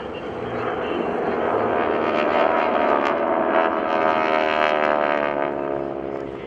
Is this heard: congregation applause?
no